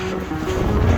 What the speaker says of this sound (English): The wind is absolutely killer.